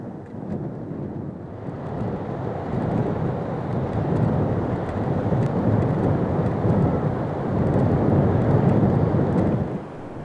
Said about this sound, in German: Dauerregen und 3 Grad Außentemperatur.